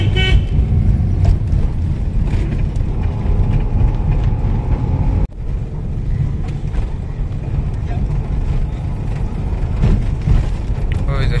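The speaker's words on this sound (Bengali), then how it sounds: "আমরা ট্রামের রাস্তা দিয়ে উবার নিয়ে যাচ্ছি।" An Uber taxi drives along a tram-lined street in Kolkata city traffic, with a constant loud engine and road rumble from inside the car and occasional horn toots mixed in.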